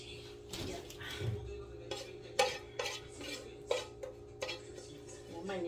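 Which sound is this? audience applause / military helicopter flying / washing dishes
washing dishes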